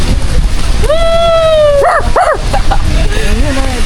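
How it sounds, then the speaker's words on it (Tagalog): A dog barks and yelps a few times close by, with a drawn-out whine first, over steady outdoor noise and wind. "May aso kami kasama na wala ng tali."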